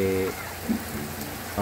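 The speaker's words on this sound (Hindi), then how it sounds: "बारिश हुई" Steady rain falls outdoors in a broad, even wash, with a voice speaking briefly at the start and end over it.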